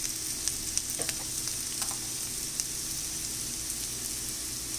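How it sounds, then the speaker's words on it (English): Onions frying and caramelizing in a pan over high flame, a steady close sizzle with scattered crackles and pops throughout, no voices. "now you can see the nice caramelization to the onions and everything in the pan"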